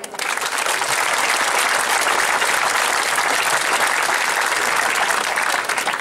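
An audience at a political slate presentation in Chios claps steadily, a dense sustained round of applause that fades slightly at the very end.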